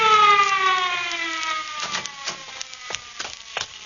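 An ambulance siren sound effect from a live radio drama wails in a falling, sweeping tone, then fades beneath scattered knocks and clatter.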